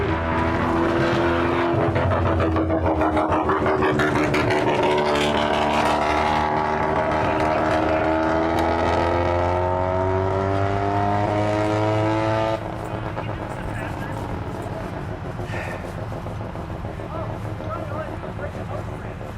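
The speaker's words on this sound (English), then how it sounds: "Nothing like a straight piped NA rotary to just blast your eardrums out." A straight-piped, naturally aspirated rotary drift car roars loudly and continuously at a drift event. Its engine pitch rises steadily, then drops back, and a voice is heard over the noise.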